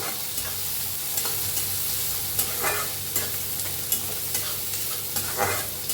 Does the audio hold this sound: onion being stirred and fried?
yes